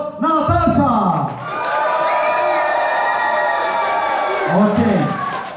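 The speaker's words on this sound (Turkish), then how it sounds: "Applaus, avlisvet alkış for Natasha." An audience cheers and shouts for a contestant at the Miss Paradiso beauty contest at Hotel Club Paradiso in Alanya, with loud, sustained whoops and voices swelling through the middle and another burst near the end.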